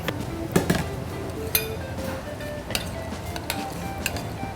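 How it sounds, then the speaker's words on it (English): A spoon stirs crab meat and mayonnaise in a bowl, producing repeated close clinks and scrapes against the dish, irregular and fairly crisp over a low room hum. "a couple spoons of this mayonnaise, and I'm gonna stir it up"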